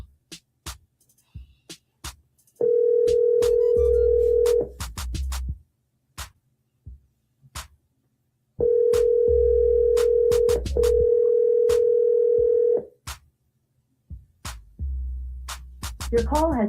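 A phone call rings out over an earpiece: two long, steady ringback tones separated by silence, a third starting at the end, with faint clicks and brief line noise in between.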